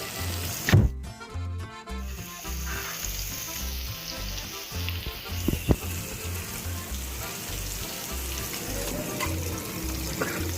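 Chopped tomato goes into a pan of frying capsicum for a paneer tomato curry, setting off a steady, close sizzle with a brief burst of water and clatter near the start, then continuing frying with occasional stirring.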